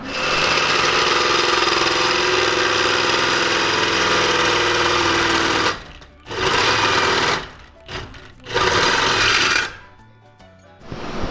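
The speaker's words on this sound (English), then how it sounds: "we have to drill a 5" 5/8 notch in this bar" A steady, loud high-pitched drilling whine as a 5/8-inch notch is drilled in a steel bar, running continuously, then cutting out and restarting several times in short bursts near the end.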